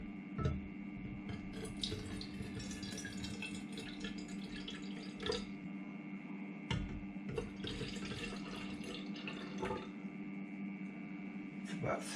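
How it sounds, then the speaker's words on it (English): About six ounces of water runs and splashes steadily into a small teapot, with faint drips and a constant low hum in the background. "I'm gonna put 6 ounces of water in here."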